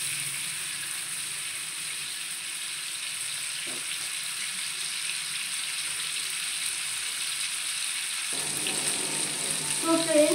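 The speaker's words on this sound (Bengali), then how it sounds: "একটু ভালো করে ফ্রাই করতে হবে" Chicken sizzling steadily in a pan for butter garlic chicken, a continuous moderate frying hiss with faint stirring, growing slightly louder toward the end.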